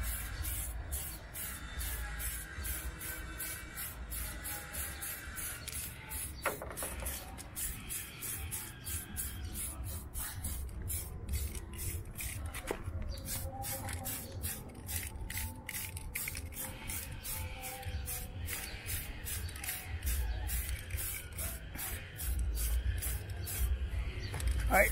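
Red paint sprays onto a HoBao Hyper VT body in soft, faint hissing bursts, repeated in short rhythmic passes with quiet handling noises between them.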